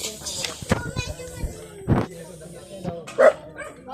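A dog barks several times in short, irregular bursts nearby, with a voice and other talk mixed in.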